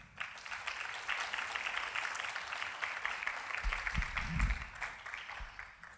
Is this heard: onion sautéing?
no